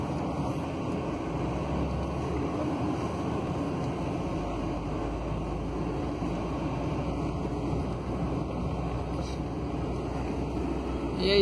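A Mercedes-Benz Actros nine-axle truck carrying 50 tonnes of cargo climbs uphill in fifth gear, its engine holding a steady, even drone with road and wind noise throughout.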